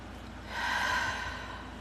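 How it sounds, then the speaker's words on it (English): A single slow, deep breath, soft and close, swells and fades over about a second in a quiet room. "Let's take some nice deep breaths."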